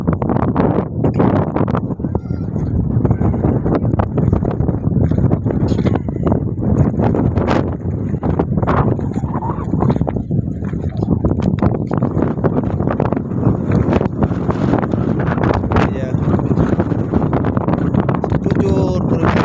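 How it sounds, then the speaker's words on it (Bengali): Strong wind at Jaflong buffets the microphone with loud, continuous rumbling gusts that barely let up, while voices are partly audible beneath the roar. "প্রচুর পরিমাণ বাতাস"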